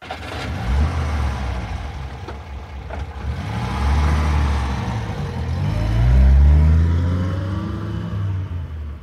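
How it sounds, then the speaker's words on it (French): A car's engine runs and revs up, pulling away with rising mid-range drone that swells and fades over several seconds, fairly close, with no talk. "Je sors la voiture."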